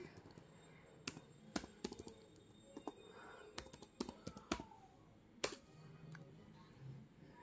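Computer keyboard being typed on while a coupon code is entered at a website checkout, scattered sharp key clicks in short bursts, close and fairly quiet, with no talk.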